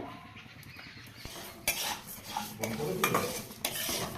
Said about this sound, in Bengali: এই যে মা ডালটা ভাজছে